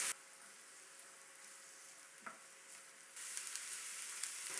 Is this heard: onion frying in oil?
yes